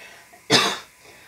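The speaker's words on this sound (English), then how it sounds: "Excuse me, I'm going to cough." A single sharp cough bursts out loudly, close by, with a short rough tail and no talking around it.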